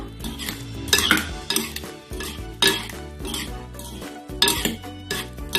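A spoon clinks and scrapes against a bowl as lime juice and sugar are stirred and tossed together, in repeated bright, irregular bursts of metallic clatter close by.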